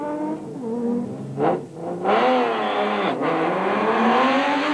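A Nissan Navara race truck's engine revs hard and aggressively nearby, roaring up through the gears in loud, rising bursts.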